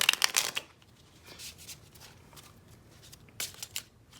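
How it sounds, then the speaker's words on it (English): Tarot cards are shuffled by hand close up, with a loud riffling burst at the start, then softer sliding and tapping and another brisk flurry near the end. "I feel like I need to shuffle again."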